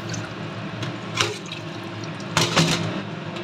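Hot water poured into a container in a home kitchen, a steady close splashing stream with two brief louder surges near the middle and end, heard alone without talk.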